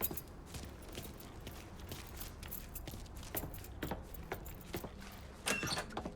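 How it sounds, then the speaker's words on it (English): Keys jangle in the Mafia 3 video game, several quick metallic rattles scattered across a few seconds at moderate distance over a quiet background, with a sharper jingle near the end. "Hey, man, grab those keys."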